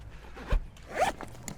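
A zipper on a Toyota Land Cruiser HZJ78 pop-top awning cover is pulled open in one quick, close rasping stroke, with a light knock just before it.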